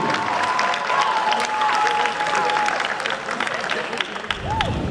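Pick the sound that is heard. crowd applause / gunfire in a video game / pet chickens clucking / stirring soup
crowd applause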